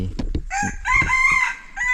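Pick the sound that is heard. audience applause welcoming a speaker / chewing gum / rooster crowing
rooster crowing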